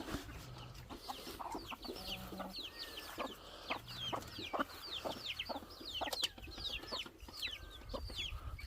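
Chickens clucking steadily in a busy flock on an off-grid homestead in Tonga, overlapping calls at moderate distance with scratchy outdoor background noise throughout.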